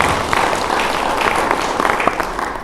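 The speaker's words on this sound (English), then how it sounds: "Please give them a big round of applause." A conference audience applauds with steady, dense clapping that fills the space and carries on without pause.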